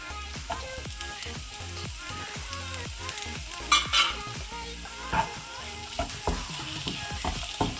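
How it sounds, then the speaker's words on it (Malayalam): Sizzling and frying from a pan as tomatoes go in on top of softened onions for egg roast, with steady stirring scrapes and a few louder clanks from a spoon against the pan throughout. "ഇനി നമുക്കിതിലേക്ക് തക്കാളി ഇട്ട് കൊടുക്കാം."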